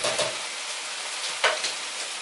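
An eggplant stir-fry sizzles steadily in a pan, with a bright, continuous hiss and a couple of brief louder bursts, with no talk.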